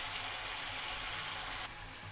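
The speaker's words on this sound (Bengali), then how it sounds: "এটা এখন আমি সুন্দর করে কষিয়ে নেব" Chicken pieces with spices frying in a pan for a Bengali chicken kosha, giving a steady, close sizzle that holds level throughout and dips slightly near the end, with no talking.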